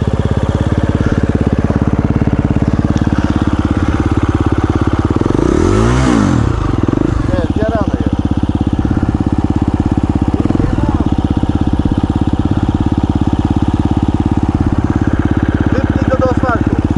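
Motorcycle engine running steadily loud throughout, with a brief rev surge around the middle before it settles back into a constant drone as the bike pulls away; a voice speaks briefly over it.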